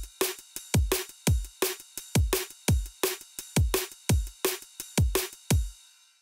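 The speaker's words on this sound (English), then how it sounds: "your overall drum beat should sound something like this" Programmed drum and bass beat for a dirty jump-up track, with punchy kicks, sharp snares and steady hats and ride repeating in a tight, fast loop for about six seconds, loud and alone with no talking.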